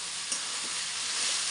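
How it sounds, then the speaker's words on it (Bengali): Soybean chunks and potato sauté in a hot pan with a constant dense sizzle, close and steady throughout, with no talking. "এখন সোয়াবিন আর আলুটা এখানে কষানো হচ্ছে"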